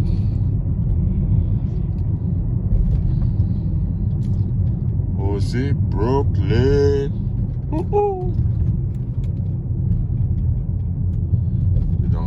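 A BMW M car cruises through New York City streets, giving a continuous low engine and road rumble heard from inside, with occasional voices and a brief cheer over it.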